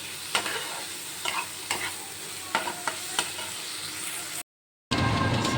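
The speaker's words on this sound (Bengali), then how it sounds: "মশলাটা একটু ফ্রাই করতে হবে সুন্দর করে যখন যতক্ষণ না অবধি তেল ছাড়ে" Spice paste frying in oil, a continuous sizzle broken by several distinct stirring scrapes, close and fairly loud, with a brief silent gap near the end before the frying resumes.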